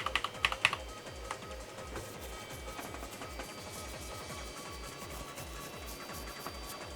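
Fast, uneven typing on an Amiga computer keyboard: a steady run of sharp, close key clicks that continues for the whole stretch, with a few louder taps near the start.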